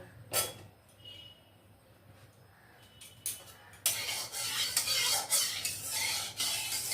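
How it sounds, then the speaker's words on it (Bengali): Boiled whole potatoes fry in white oil in a hot kadai, with a faint sizzle and a few sharp spatula scrapes at first, then a louder, denser sizzle with repeated stirring for the last few seconds. "সাদা তেল দিয়ে আলুটাকে আমি একটু ফ্রাই করে নেব"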